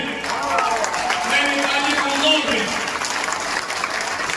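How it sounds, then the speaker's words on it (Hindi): An audience at an outdoor poetry recital and mushaira claps in a dense, continuous wash of applause mixed with crowd voices. "ताली कमजोर है"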